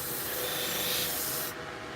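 A knife's semi-convex bevel is touched up on a spinning powered sharpener. It gives a steady, close grinding rasp that holds evenly, then the bright edge of the sound drops off sharply about halfway through.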